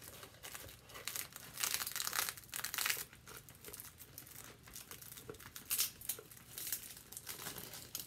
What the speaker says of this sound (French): Donc, je vais le rouler sur mon papier.